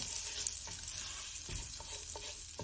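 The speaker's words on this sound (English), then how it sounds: "we saute our veggies and season it a little bit" Vegetables for fried rice sauté and sizzle in a hot pan, a steady frying hiss with occasional stirring scrapes and clinks throughout, close and fairly loud, with no voices.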